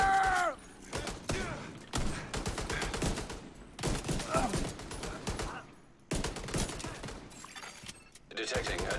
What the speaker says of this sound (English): Suppressor fire!